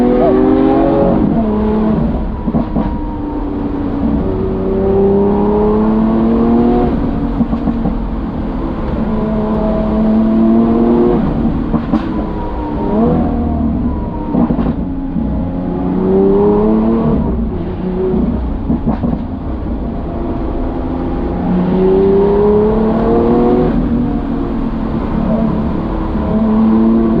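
A Lamborghini Aventador S, a four-wheel-drive car with four-wheel steering, drives a winding road, its engine rising and falling steadily through gear changes as heard from inside, with no talk over it.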